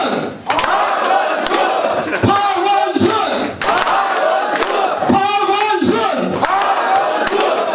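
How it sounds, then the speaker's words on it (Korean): A loud crowd at a Seoul mayoral lecture event chants Park Won-soon's name in unison, a few rhythmic shouted bursts with a roomy echo and a constant crowd murmur between them. "세 번만 박원순을 연호하도록 하겠습니다"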